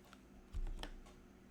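A keyboard shortcut pressed on a computer keyboard in music notation software: a couple of close, quiet key clicks in quick succession against a low steady hum.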